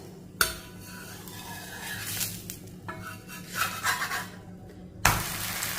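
A protein dosa is flipped on the pan, with scraping and rubbing of a spatula across the cooking surface and a couple of sharp knocks, close and moderately loud, with no talk.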